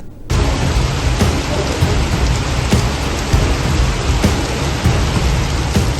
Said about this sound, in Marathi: सावंतवाडीतही आज मुसळधार पाऊस कोसळत आहे